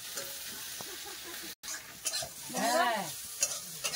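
Okra fries in a pan, giving a quiet sizzle that is stirred intermittently, with scraping strokes and a brief gap partway through.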